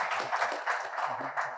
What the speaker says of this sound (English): round of applause for Bobby